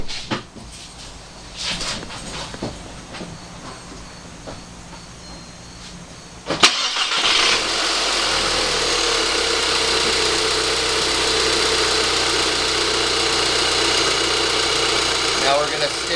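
A 2006 VW GTI MKV with the 2.0T FSI engine sits quiet at first, then cranks and catches about midway and settles into a steady, close idle that drones to the end.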